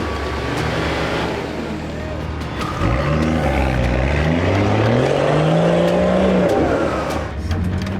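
A 4WD grinds along an off-camber muddy track in wintry Tasmania, its engine revving and climbing in pitch as it labours, fairly close, with occasional voices over the motor.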